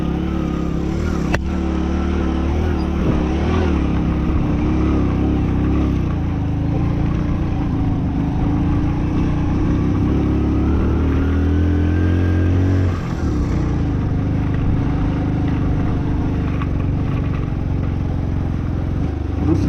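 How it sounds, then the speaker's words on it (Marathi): A Hero Passion Pro motorcycle rides slowly over a rough, gravelly unpaved road in Spiti Valley, struggling in low gear. The engine drones steadily and closely, with rumbling and wind noise throughout. "दुसऱ्या गिरवर चालू नाही गाडी."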